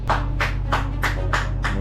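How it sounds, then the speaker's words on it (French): Six loud, evenly spaced hand claps in steady rhythm, close up over a low steady hum. "moi j'applaudis très fort"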